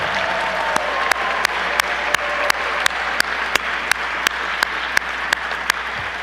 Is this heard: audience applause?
yes